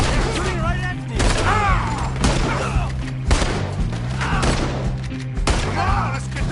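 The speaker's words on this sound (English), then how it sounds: "Shooting right at me!" Gunfire in the Red Dead video game, a string of loud close shots and thuds repeating every second or so amid a busy mix of game sound and excited shouting voices.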